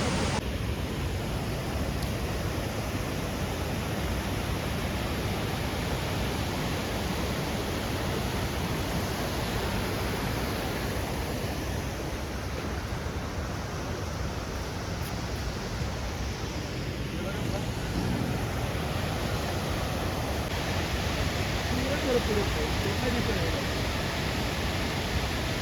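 A waterfall near Mandalpatti in Coorg roars as a steady, dense wash of rushing water, loud and unbroken throughout with no talking.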